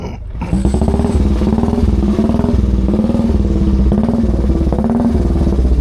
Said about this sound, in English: It's a Nuffield. Not having a very good time starting up